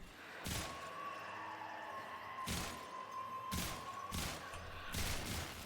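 Sicarus incarnon pistol firing in a shooter video game, four sharp broadband bursts spaced irregularly over a steady hum with a constant tonal whine in the background.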